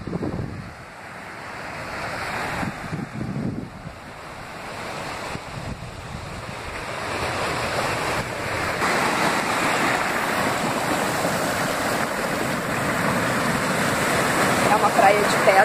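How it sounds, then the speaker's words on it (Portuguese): Atlantic waves washing against dark basalt rocks on Praia Monte Verde in Portugal, a continuous roaring surf that builds louder over time, mixed with gusty wind on the microphone and brief talk early on. "Então, quando a água bate, faz um barulho sensacional."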